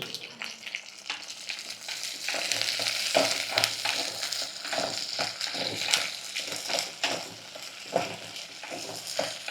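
Food fries in a pan with a steady sizzle and spatters, broken by repeated scraping and clinking strokes of a spoon stirring it, close and fairly loud.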